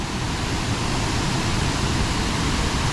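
Clean, pristine waterfall roaring as a dense, constant broadband rush, loud and steady throughout with no voices.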